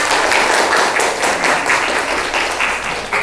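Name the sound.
class applause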